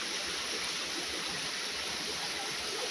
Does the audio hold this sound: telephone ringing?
no